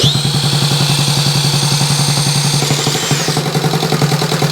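A pink Honda Z50A mini motorcycle engine idles with choke on and no throttle cable fitted, a steady close putter with rapid even firing pulses and a high whine above, running alone throughout.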